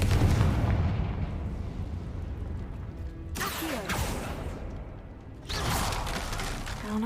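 A Confringo fire spell in Hogwarts Legacy goes off as a loud blast with a burst of rumbling debris, then a second crashing burst follows a couple of seconds later over steady game ambience.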